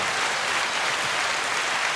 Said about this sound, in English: Can we get a round of applause for Luca?